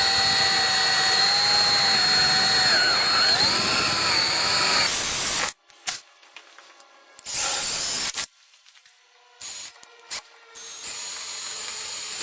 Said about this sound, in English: So time to drill some holes.